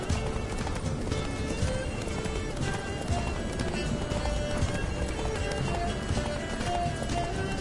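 A horse gallops in The Witcher 3 video game, with dense, continuous hoofbeats under steady game ambience and a voice talking over them.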